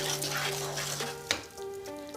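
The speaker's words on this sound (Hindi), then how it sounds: "बेसन को मैंने लगातार भुना है" Gram flour (besan) roasting in a pan for halwa, with a soft steady sizzle and occasional scraping from stirring, plus one sharp clink midway.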